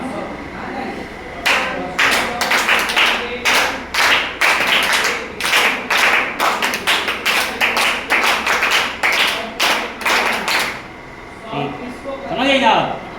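Children in a nursery classroom clap their hands in a steady rhythmic beat, about two dozen loud, close claps in a row, while voices chant and talk along. A few scattered claps and murmurs follow after a brief pause.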